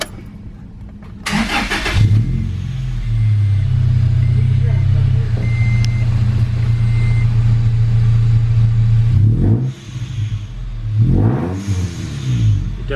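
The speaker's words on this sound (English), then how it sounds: "Now let's go ahead and start her up and listen to the exhaust." A supercharged manual Toyota Tacoma cranks and fires, then settles into a loud, steady idle with a deep exhaust rumble and faint whine. The engine cuts out and is restarted near the end.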